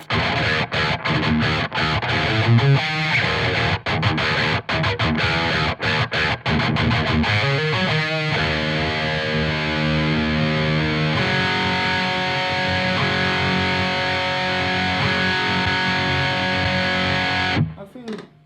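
Heavily overdriven electric guitar through a BOSS SD-1 or MXR Custom Badass Modified O.D. pedal, dense and gritty, with chugging bursts early on then sustained distorted chords ringing until an abrupt stop near the end.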